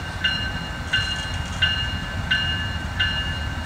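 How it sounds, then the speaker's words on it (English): A CSX freight train passing on the Hamlet terminal line, a steady low rumble with rhythmic wheel clacks repeating about every two-thirds of a second, heard from trackside at moderate distance. "Shined his lights on that train."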